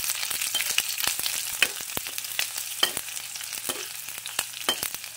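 Onion added to a pan after garlic sizzles and crackles in hot oil, with a steady close hiss, scattered sharp pops and stirring clicks, and no talk, during preparation of crab cooked in coconut milk.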